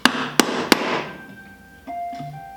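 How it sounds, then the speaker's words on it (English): Hammer blows driving a screwdriver along the edge of an old, rusty metal tool chest: three quick, sharp metallic knocks up close, then a fading ring and a few lighter scraping taps. "I take my screwdriver and start it in the edge here and just hammer this in and along the edge"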